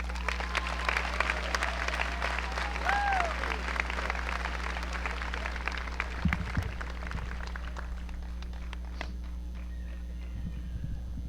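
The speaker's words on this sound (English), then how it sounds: "Can we give them a round of applause?" Sustained applause from a graduation ceremony audience fills the space, a dense patter of clapping that tapers off gradually, with faint crowd murmur beneath.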